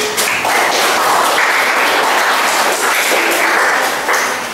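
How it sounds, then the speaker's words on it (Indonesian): Students clap together in a classroom after a lesson, a steady burst of many hands that holds for several seconds, close and fairly loud, with a bark-like sound poking through. "tepuk tangan buat."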